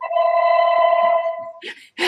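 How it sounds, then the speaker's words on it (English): A phone rings in the background in two or three warbling electronic bursts, fairly clear, followed by a short noisy clatter at the end. "Oh, it's a phone. I thought it was someone yelling in the background."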